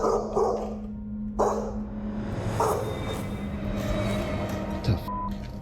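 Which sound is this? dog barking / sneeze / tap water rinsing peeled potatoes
dog barking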